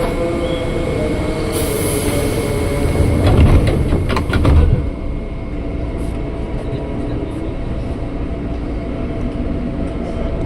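A KRL commuter train rides the Rangkasbitung line near Jakarta, heard from inside the carriage with a steady rumble, a brief clatter and squeal of wheels over track, then a calmer running hum.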